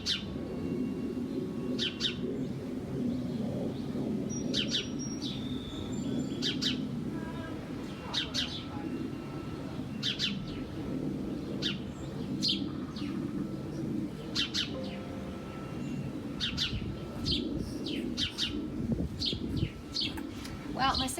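An American robin's song plays from a recording, bright repeated chirps and whistled phrases in short bursts at an even pace, set over a fairly loud, steady background murmur.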